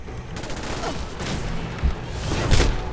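In Fallout 4, an enemy blows up amid gunfire, with a dense rapid crackle of shots and blasts building to heavy booms near the end, loud and continuous.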